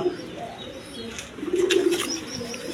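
Quality pigeons, a male and female pair kept for sale, coo in low repeated murmurs close by, with brief chirps and a soft rustle of wings rising midway.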